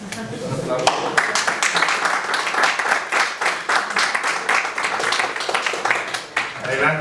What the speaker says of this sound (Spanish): Bienvenida, Lorelia. Un aplauso.